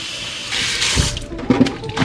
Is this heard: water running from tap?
yes